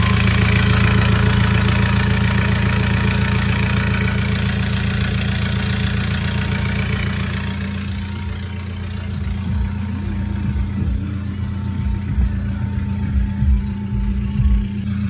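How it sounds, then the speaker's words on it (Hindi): A Toyota Fortuner engine idling steadily after a cold start, with a strong low exhaust drone that runs loud and continuous, then eases slightly and turns a little more uneven toward the end. "अगर थोड़ा शोर आ रहा है तो भाई वो है एग्जॉस्ट की आवाज़"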